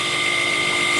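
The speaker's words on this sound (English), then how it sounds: "because it's a brushless motor, big difference in sound, right?" Halfords brushless machine polisher motor running smoothly, a steady high-pitched electric whir held at constant loudness through a very short stretch.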